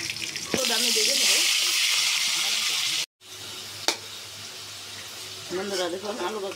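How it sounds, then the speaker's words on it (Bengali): Potatoes frying in a pan for a Bengali tangra fish curry with aubergine, a steady close sizzle that breaks off for a moment, with a sharp clatter and a voice speaking at the start and end. "বন্ধুরা দেখুন আলু ভাজা হয়ে গেছে"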